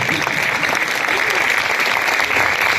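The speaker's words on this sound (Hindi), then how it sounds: "जोरदार तालियों के साथ वेलकम करेंगे" Steady, loud applause from a crowd at a church sermon, clapping continuously without a break.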